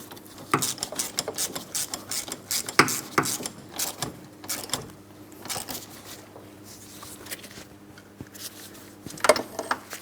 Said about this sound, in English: Now I'm going to snug them up and then torque them to 92 foot-pounds.